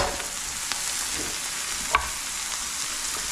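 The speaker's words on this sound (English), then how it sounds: "Now I want to cook this or saute it until those onions get just a little bit brown around the edges, kind of clear up" Onions sautéing in a pan, a soft steady sizzle close by with one faint utensil tap partway through.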